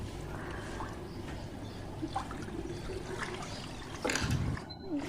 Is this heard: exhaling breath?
no